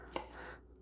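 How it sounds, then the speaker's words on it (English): A knife chops celery into small dice on a cutting board, a single quiet close-up chop over a faint background hum. "cut that into small little dice."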